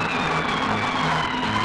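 A car engine roars steadily as the car speeds away in a Marathi comedy scene, loud and continuous with no talking over it.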